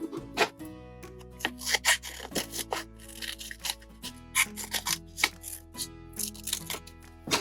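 Scissors cut out paper fish fins at close range, with repeated snipping and rustling strokes over a steady low hum and faint tonal background.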